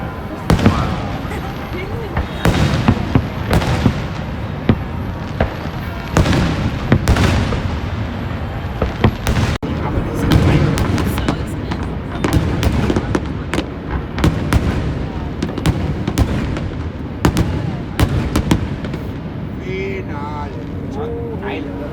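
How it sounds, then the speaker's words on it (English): Tet New Year fireworks in Vietnam, a dense, loud barrage of bangs, crackles and booming bursts that keeps going throughout, with crowd voices mixed in underneath. "kept our fingers crossed we'd be able to see the Tet fireworks"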